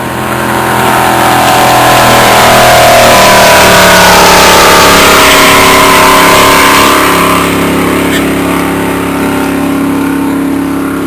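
A powerful water ski racing boat roars past at close range, its heavy engine drone swelling loud and steady across the whole stretch before easing slightly as it moves away.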